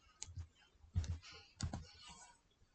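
Keys typed on a computer keyboard: a few soft clicks followed by two short clustered bursts of taps, quiet and close, with no talk.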